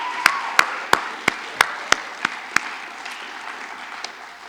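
Gala audience applauding three short films: loud, evenly spaced claps in a steady rhythm stand out over a softer wash of crowd clapping, then fade out toward the end.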